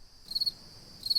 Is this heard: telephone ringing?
no